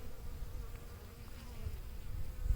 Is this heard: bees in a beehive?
yes